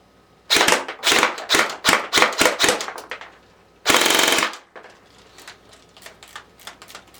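Airsoft gun powered by an 11.1v LiPo battery firing in rapid close bursts, several quick strings of shots followed by one longer sustained burst, then quieter mechanical clicks and handling noise.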